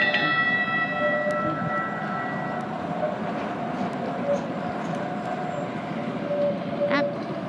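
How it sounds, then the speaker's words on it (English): TriMet MAX light rail train pulling into its final westbound stop on Main Street beside a freight train, a steady rumbling roll with faint bell tones and a short squeal near the end, heard with no talk over it. "Yep, just arriving at the final stop, which is on Main Street next to the freight train."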